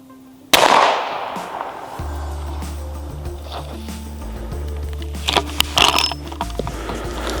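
A single sharp, loud report from a Civil War era gun, with a ringing outdoor decay, followed by quieter background noise and faint bumps.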